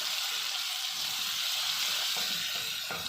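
Garlic frying in a pan, a continuous bright sizzle with a few soft scraping clicks near the end, close and fairly loud, no talking.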